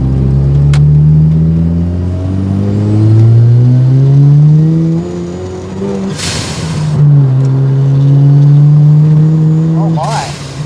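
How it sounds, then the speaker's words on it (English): A turbocharged Mazda RX7 FC rotary engine pulls hard in third gear up a small hill, its note rising steadily in pitch with a brief dip mid-pull, loud and close from inside the car. "That was a third gear pull up this little hill."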